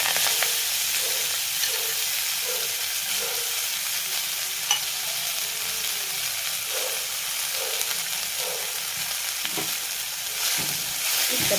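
Fenugreek leaves fry in a pan with cumin and asafoetida, giving a steady, close sizzle with faint stirring scrapes throughout, no voices.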